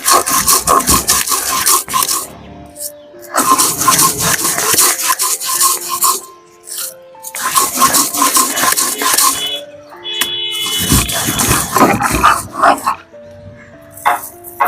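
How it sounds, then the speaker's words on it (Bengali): Ingredients are ground by hand, two at a time, for a breakfast of chapati pitha and sweet pumpkin curry, making repeated rough rubbing and rasping strokes in rhythmic bursts with short pauses between them, close and fairly loud, with a voice heard at times. "দুইটা করে কিন্তু বেটে দিয়ে নিব, আর একেবারে নিয়ে করে কিন্তু বাটবো না।"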